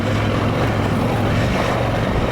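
Off-road motorcycle pushing through a whoop section in second gear, a loud, steady engine drone with a low fixed tone running unbroken and close throughout.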